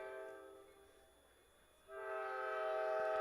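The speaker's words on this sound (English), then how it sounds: "train coming into the frame, making its presence known" A train enters at a baseball game, its horn blaring loud and steady over the low rumble of the passing cars after a quieter stretch.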